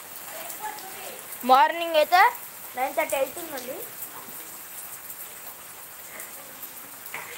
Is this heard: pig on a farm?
no